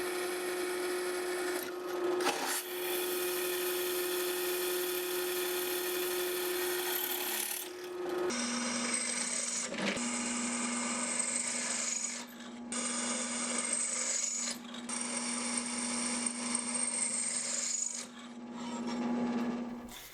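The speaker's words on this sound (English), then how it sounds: "Now I'll drill out my pinholes and a few extra holes that will allow the epoxy to run" A drill bores pinholes through knife handle scales, the motor whining at a steady pitch in several separate bursts with brief pauses and a slight change in tone between passes, close and fairly loud.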